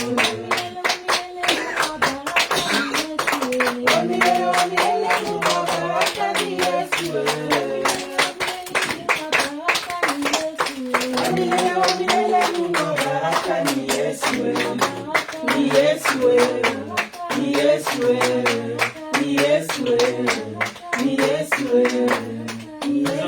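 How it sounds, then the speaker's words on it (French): Congregation clapping hands in rhythm during a church service, steady loud claps running throughout beneath sung music and voices. "Applaudissons le roi des rois"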